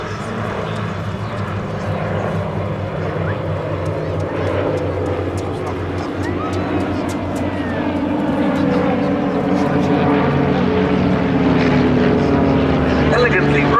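Team Raven aircraft fly a smoke-on display manoeuvre at the Duxford air show, their propeller engines droning steadily and growing louder under continuous commentary from an announcer.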